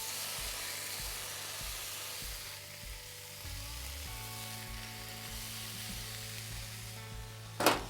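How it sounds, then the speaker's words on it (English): Bacon sizzling as it cooks, a continuous soft hiss and crackle close by at low volume, with a low steady hum underneath and a brief louder burst near the end. "I'm going to cook up some bacon."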